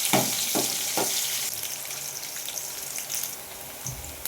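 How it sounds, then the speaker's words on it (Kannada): Onions fry in hot oil with cumin and mustard seeds, a close, steady sizzle broken by a few quick stirring scrapes at the start. "ಇವಾಗ ಈರುಳ್ಳಿ ಹಾಕೊಳ್ಳಿ. ಈರುಳ್ಳಿ ಸ್ವಲ್ಪ ಚೆನ್ನಾಗಿ ಫ್ರೈ ಆಗಬೇಕು ಎಣ್ಣೆಯಲ್ಲಿ."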